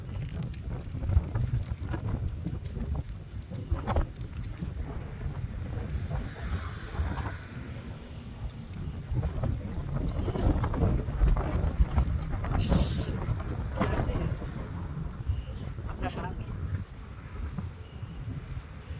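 Strong wind buffets the microphone in a continuous low roar, gusting louder at times, with occasional faint clicks and rustles.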